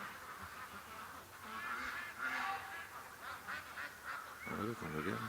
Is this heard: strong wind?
no